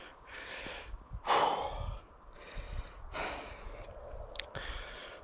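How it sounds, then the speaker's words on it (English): Heavy, labored breaths from someone hiking up Grisedale Pike in the Lake District, near Braithwaite: a run of loud, close exhales and sighs, with outdoor background noise and no talking. "I'm breathing heavily"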